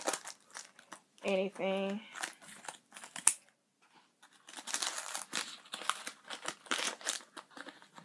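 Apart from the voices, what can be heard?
cutting open a package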